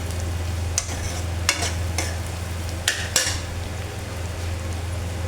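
Bitter gourd and onions frying in a pan, stirred with a utensil: a steady sizzle runs throughout, punctuated by several sharp scraping clinks against the pan, close and fairly loud with no talking.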